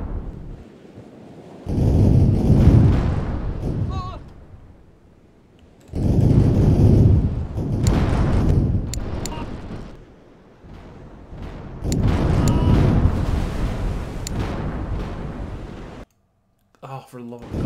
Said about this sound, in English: You see the fort over there shooting away.